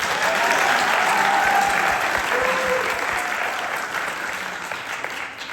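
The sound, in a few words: audience applause at jazz concert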